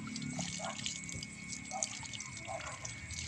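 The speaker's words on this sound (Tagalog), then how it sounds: "Kailangan hugasan po natin mabuti kasi meron mga kasamang medyo may putik, lupa," Running water splashing and dripping as muddy takway lotus root is washed clean, a close, steady trickle with small irregular splashes.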